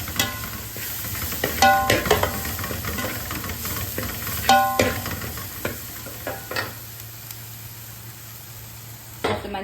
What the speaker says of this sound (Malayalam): എന്നിട്ട് നമ്മൾ ചുട്ട തേങ്ങ ചതച്ചത് ഇതിനകത്തോട്ട് നമ്മളിട്ട് എല്ലാം ഇട്ട് ഇളക്കുവാണ്